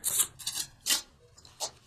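Angel oracle cards slide and rub together during a hand shuffle, three or four soft, quick rasping swishes, close and fairly quiet with no voices.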